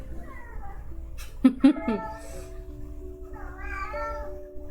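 A pet cat meows indoors, a few drawn-out, wavering cries close by, including a louder burst in the middle, with tonal background music and faint speech around them.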